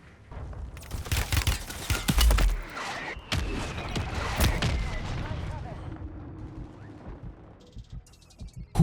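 Gunfire from the MORS sniper rifle in Warzone on Rebirth Island, with several sharp, loud shots and booming reports in the first half fading into quieter game ambience, while a player talks in between.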